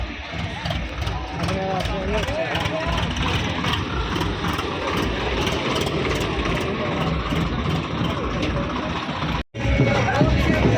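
Tractor engines idle in a traffic jam on the way to Pir Nigaha near Anandpur Sahib at night, a steady, loud low rumble of several engines throughout, with people talking over it.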